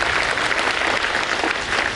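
Steady, loud applause from an audience at a Hosapete gathering honoring Dr. Shivanand, a continuous wash of many hands clapping together with no gaps.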